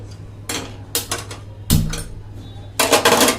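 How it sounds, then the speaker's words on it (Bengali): A pressure cooker set down on a gas stove, with several metallic clanks and knocks in quick succession and one heavier thud, close and fairly loud. "বাবু খাবারটা কুকারেই করব, কুকারটা বসিয়ে"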